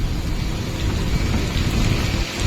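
Heavy rain pours steadily and loudly in a dense, continuous roar, with a low rumble underneath, as a vehicle travels through a downpour.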